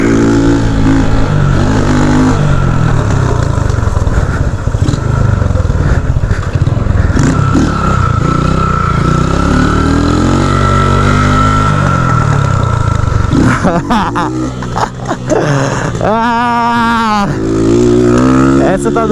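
A motorcycle engine roars loud and close as the rider pops a wheelie up a short steep hill, revving hard in rising and falling surges, with voices talking over it.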